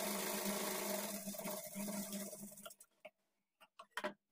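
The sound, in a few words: sewing machine stitching blouse darts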